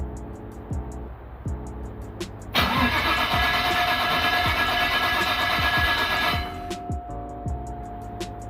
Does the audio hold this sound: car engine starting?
yes